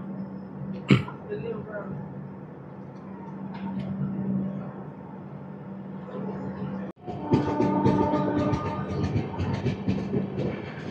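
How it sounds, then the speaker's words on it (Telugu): Train on the Visakhapatnam–Araku line pulling away after a five-minute halt at Tyda station: a steady low rumble, a sharp knock near the start, then a louder surge of rolling clatter and rising mechanical noise. "టైడా స్టేషన్లో ఒక 5 minutes హాల్ట్ తర్వాత మా ట్రైన్ అయితే స్టార్ట్ అయిపోయింది"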